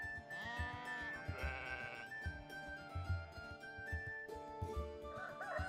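Sheep bleat repeatedly nearby in a rural pastoral setting, the calls rising and falling over a busy farmyard background that may include a rooster.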